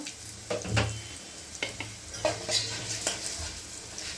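Tempering spices with asafoetida crackle and sizzle in hot oil for spinach pulusu, with intermittent spoon scrapes and stirring knocks against the pan; close and fairly quiet, no talking.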